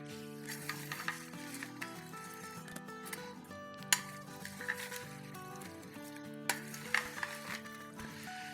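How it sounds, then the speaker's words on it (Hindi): Watermelon salad being stirred and tossed in a bowl, with soft wet clinks and scrapes of a spoon against the dish repeating over a steady murmur of background music. "और अब इसको मिक्स करेंगे"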